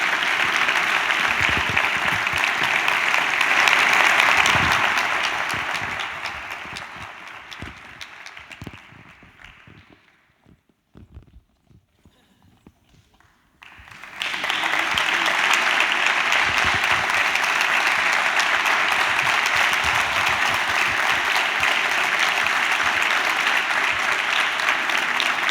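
Audience applause fills the hall at a medical association gala in Albacete, with dense, steady clapping from a large crowd. It fades to near silence midway, then swells back strongly and continues loud to the end.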